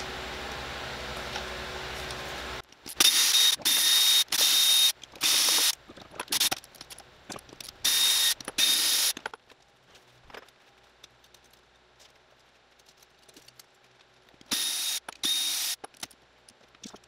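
A ratchet removes 12 mm bolts from a cover on a car, quick bursts of clicking repeated in several spells, close up, separated by quiet handling and a low background hum.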